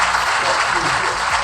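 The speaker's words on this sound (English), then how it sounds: "It needs a round of applause." Applause from a small group, a short burst of clapping blended with voices talking over it, fairly loud and close.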